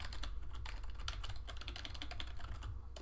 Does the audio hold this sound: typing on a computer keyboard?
yes